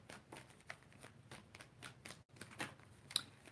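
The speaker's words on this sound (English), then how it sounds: "Let's get one more card out." Tarot cards handled and shuffled to draw one from the deck, a run of quiet, close, papery riffling flicks in quick succession with a short pause near the end.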